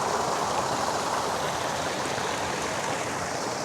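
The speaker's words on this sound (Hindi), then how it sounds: "अभी ऊपर ये जो गार से पानी गिर रहा है ना, वो देखिए कैसे उभर रहा है" Water pours from a cave above the shore at French Beach near Karachi, a steady loud splashing rush with no pause, filling the scene.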